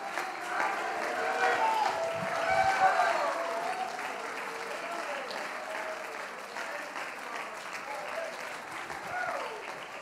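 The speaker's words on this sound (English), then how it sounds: "Clap your hands, O ye people, and shout unto God with the voice of triumph." A church congregation claps hands together in sustained, steady applause, a dense crowd sound that swells and then holds at a moderate, even level for the full stretch without a break.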